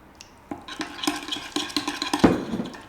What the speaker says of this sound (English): You gotta emulsify that a bit so you get that mixed in there.